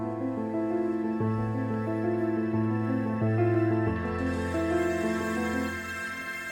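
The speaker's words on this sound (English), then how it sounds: "the pad you can hear coming in is not a synthesizer, it's actually carbon." Demo intro featuring a sustained pad made with CARBON guitar software, smooth layered tones holding steady chords that shift every second or so, with no talking.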